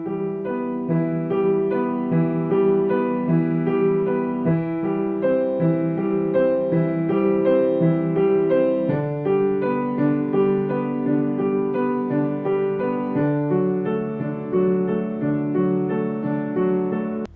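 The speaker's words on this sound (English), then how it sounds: "So what's happening in my hands are I'm playing bottom, middle, top." Piano chords broken into bottom, middle and top notes, repeated continuously in the same upward direction as a beginner exercise, an even rolling pattern that is close, full and steady throughout.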